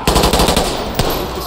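Rapid automatic gunfire in a video game rattles out in a loud, close burst of evenly spaced shots, followed by a single sharper shot near the end.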